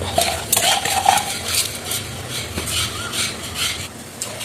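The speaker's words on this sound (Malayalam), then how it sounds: "ഒന്നേകാൽ കപ്പ് പരിപ്പ് അത് നമ്മൾ കുക്കറിലേക്ക് ഇട്ട് കൊടുക്കുകയാണ്" Lentils rattle and clatter into a metal pressure cooker, with scraping and clinking of a utensil against the rim, close by and without speech.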